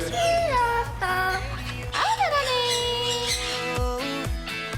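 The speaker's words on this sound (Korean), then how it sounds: "먹이를 달라고 노래를 부르고 말을 걸기도 한다는 앵무새 친구들" Parrots at a petting attraction near Jeju Airport squawk loudly in repeated harsh, rising calls, close by and dense across the whole stretch.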